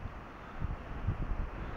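Wind buffets a microphone on a beach during metal detecting, giving low, uneven rumbling gusts that swell and fade at moderate loudness with no voices.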